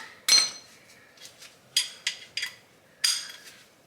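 Triple square bolts cracked loose with a hand tool on a Volkswagen/Audi MQB car during a wheel bearing job: sharp metallic clinks and snaps in several separate bursts, close and fairly loud against a quiet background.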